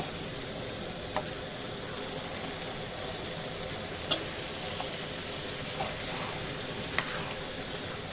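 Mutton fries with spices in a pan, producing a steady hissing sizzle at close range with occasional light ticks and clinks of stirring, and no speech.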